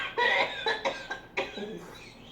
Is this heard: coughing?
yes